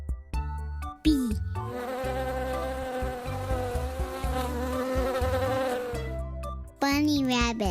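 A bee's sustained buzzing drone, loud and close, fills most of the stretch between short bursts of music, playing alone without talk.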